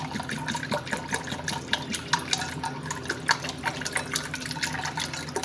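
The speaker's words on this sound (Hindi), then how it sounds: "इसके अंदर जी अब हम पानी ऐड करेंगे।" Water is poured into raw mango sharbat, making a continuous, close splashing gurgle with small irregular plops throughout.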